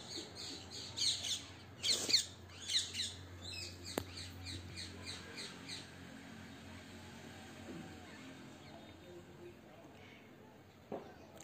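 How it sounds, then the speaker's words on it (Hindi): Parrots squawk and chirp from a tree in the grounds of an ashram in Mahaban, Gokul, Uttar Pradesh, with a burst of harsh calls early on that thins to scattered cries over a low background hum. "इस पेड़ पे काफ़ी सारे तोते हैं।"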